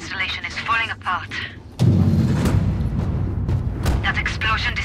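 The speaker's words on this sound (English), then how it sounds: "That explosion disabled the reactor cooling system." A generator explodes inside a makeshift reactor installation in the video game Sniper Ghost Warrior 3, a sudden loud boom that drops into a sustained, heavy low rumble, with voices talking over it before and after.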